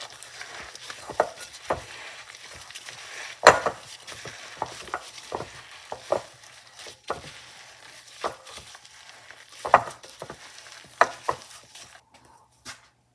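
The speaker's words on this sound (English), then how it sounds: "you put your hands in there and mix them all together" Hands mixing meatball mixture in a bowl, with soft squelching and irregular slaps and taps at close range, some sharper thumps scattered among quieter kneading.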